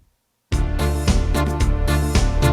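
Electronic keyboard plays its Auto Bass 1 accompaniment, a steady, busy bass line with rhythmic chords that starts abruptly after half a second of silence and continues loud and unbroken.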